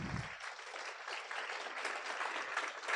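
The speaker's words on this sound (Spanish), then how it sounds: "Un aplauso para el profesor Miguel Arroyo" A lecture audience applauds economist Professor Miguel Arroyo with steady, even, distant-sounding clapping, a soft thump at the very start, no voices.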